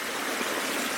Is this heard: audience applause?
no